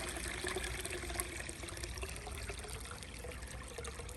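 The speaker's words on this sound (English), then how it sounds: "now I'm just gonna kind of let the water drain out." Water trickling and draining steadily out of an Uboter robotic pool cleaner, a soft continuous flow heard close and fairly quiet.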